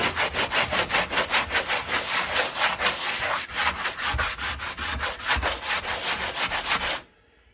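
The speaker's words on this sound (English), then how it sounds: "And see, when I just sand this," A coarse sanding pad, roughly 80 to 100 grit, scrubs back and forth over a tile backsplash in fast, rhythmic rasping strokes, close and loud, stopping abruptly at the end.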